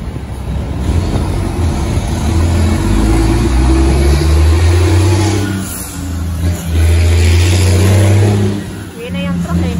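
A truck engine runs loudly close by, a deep rumbling drone that rises and falls as the vehicle passes. People talk over the engine noise throughout.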